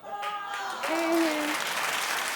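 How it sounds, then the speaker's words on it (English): A studio audience at The Wendy Williams Show claps steadily for a couple of seconds, the applause swelling midway, with a voice or tonal sound carrying over the top. "Keep clapping, everybody."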